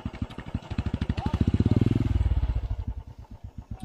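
A motorcycle ridden at close range, its engine thumping in a steady rapid pulse that swells louder midway as it pulls harder, then eases off, with a brief voice in the background.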